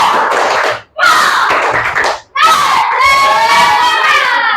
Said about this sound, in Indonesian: Dan sekali lagi, mari beri tepuk semangat.